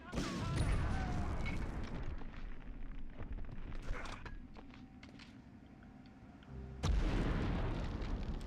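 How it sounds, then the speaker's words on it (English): A rocket blast in the World War II shooter Medal of Honor erupts loudly at the start and rolls into a long rumbling decay, with a second heavy boom hitting near the end. "I'm just firing a rocket into them."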